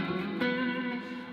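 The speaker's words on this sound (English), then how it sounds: "adding all this delay and reverb to a nice clean sound" A clean electric guitar chord rings out with a second strum, its tones sustained and washed in delay and reverb, alone without voices.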